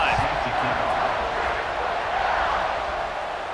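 A stadium crowd in a football video game cheering and roaring as a kickoff unit takes the field, a broad continuous roar under a commentator's voice.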